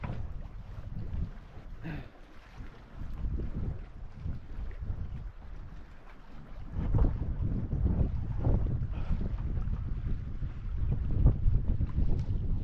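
Gusty wind buffets the microphone in low rumbling waves while a canoe is loaded at the shore of John Lake in the Boundary Waters, with faint knocks and bumps of gear and the hull, rising louder toward the end.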